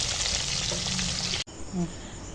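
Hilsa fish pieces fry in a pan with a steady, close sizzle that runs without pause, then drops briefly before a softer frying hiss resumes.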